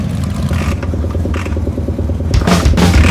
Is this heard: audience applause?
no